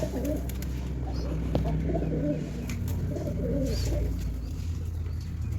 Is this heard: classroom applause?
no